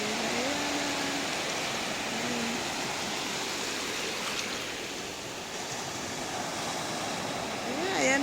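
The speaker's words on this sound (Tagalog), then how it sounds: "Yan yung malalaking alon na sinasabi niyo po yan." Big ocean waves breaking near a shallow, waist-deep shore, a continuous broad roar of surf that swells toward the end, with a faint voice heard briefly.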